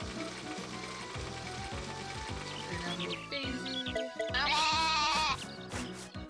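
Sheep in the farming game Story of Seasons bleat over looping background music, one wavering, drawn-out bleat standing out loudly near the end above a steady rhythmic backing track.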